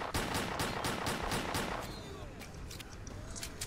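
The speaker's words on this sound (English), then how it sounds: "it's a bunch of cover-based shooting. Welcome to Stalker Clear Sky." A burst of gunfire in the video game Stalker Clear Sky, with rapid close shots for about two seconds, then quieter scattered shots and fainter ambient sound.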